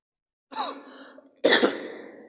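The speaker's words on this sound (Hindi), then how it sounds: "सॉरी यार, खांसी है थोड़ी सी।" Two close, harsh coughs from one person, the second louder and rougher, set against silence with no speech.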